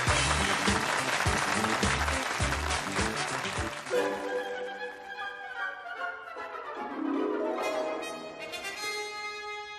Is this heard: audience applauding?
yes